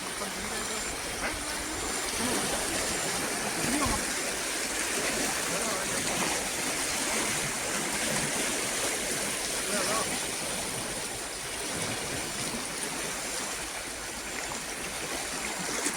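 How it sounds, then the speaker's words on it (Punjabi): Steady rushing water of the fast-flowing Beas River near Kishanpur, Gurdaspur, fills the clip, a dense continuous roar of a fast current with no pauses and no voices. "ਪਾਣੀ ਦਾ ਬਹਾਅ ਜਿਹੜਾ ਬਹੁਤ ਤੇਜ਼ ਆ"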